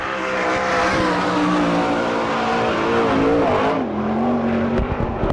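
A sprint car engine roars loud and steady on the track at Mercer, Pennsylvania, during an All Star Circuit of Champions race in 2000, its droning pitch dipping briefly as the car passes before easing off.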